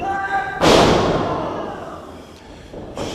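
Wrestler's body slamming onto the ring mat after a hip toss at a live independent wrestling event, one heavy booming thud that echoes and fades through the arena, with commentary voices and crowd noise around it.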